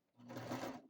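A sewing machine makes a short, quiet burst of stitching on a bucket hat seam, rising and fading within under a second.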